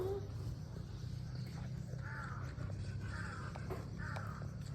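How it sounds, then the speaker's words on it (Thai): Three or four hoarse caws from a crow, spaced a second or so apart, over steady low traffic-like rumble and background noise. "เสียงกา"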